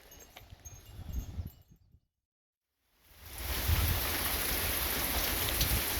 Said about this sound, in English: Yes, it's raining again.